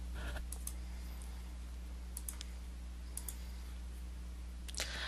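Sparse computer mouse clicks in scheduling software, a few light taps scattered over a steady electrical hum in a quiet room, no talking.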